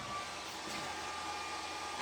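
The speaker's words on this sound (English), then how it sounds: "Didn't I just use my hairdryer?" A hairdryer blows steadily, close and at moderate volume, as one unbroken rushing whine with no voices.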